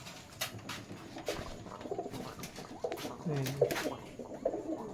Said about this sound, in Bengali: ডাকো সুন্দর, রুম বাজির কবুতর